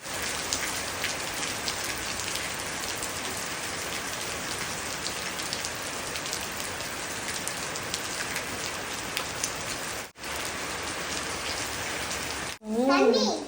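Heavy rain pours steadily onto surfaces close by in a rural province, a dense constant hiss that breaks off briefly near the end, with a voice faintly audible.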